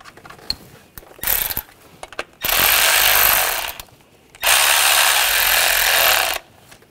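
Ratchet turning in two long bursts of steady clicking while ignition coil bolts on a 2014–2020 Nissan Rogue 2.5L are snugged down, close and loud, with a few brief metallic taps in between and no talk.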